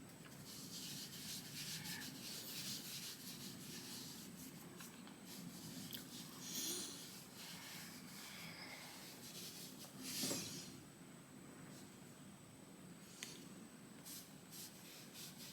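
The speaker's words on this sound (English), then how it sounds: "I just kind of rub it all over my face like that a little bit" Face powder being rubbed over the face by hand, a soft continuous brushing and rubbing heard close up and quiet, with a couple of slightly louder strokes and no talking.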